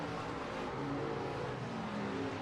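Race car engine roaring continuously on the last lap at the Southern Oklahoma Speedway, an IMCA dirt track, a steady dense drone with no pause, heard from trackside.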